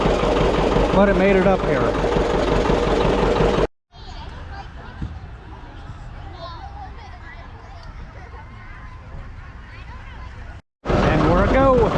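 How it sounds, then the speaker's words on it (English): Hay machine engine idling, a steady low rumble under loud wind and voices at the start and end of the clip, with short dropouts. "let the thing just sit there and idle because it's too hard on the pony to keep starting and stopping it."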